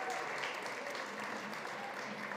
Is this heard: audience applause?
yes